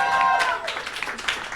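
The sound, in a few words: audience applause at a comedy show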